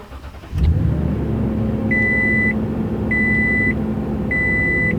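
A Toyota Tundra TRD Pro truck starts up: a quick starter crank catches into a loud, steady engine idle, while an electronic beep chime repeats three times at an even pace over the running engine.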